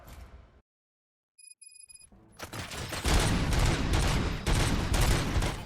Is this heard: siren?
no